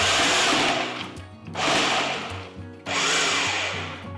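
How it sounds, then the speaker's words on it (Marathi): A food processor pulses dry fruits into pieces in three loud whirring bursts, each spinning up and cutting off in turn, close by and with no voices. "आता सुकामेवा फूड प्रोसेसरमध्ये काढून घेतला की याची पेस्ट आधी नाही करायची, आधी फक्त पल्स करून याचे तुकडे करून घेऊया"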